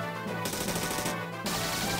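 Gunfire in the video game Nostalgia comes as loud, dense bursts of rapid shots in two long volleys, separated by brief lulls, with no speech over them.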